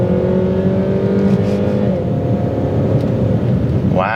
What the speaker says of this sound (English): I shall give you one final lovely 2-litre engine noise.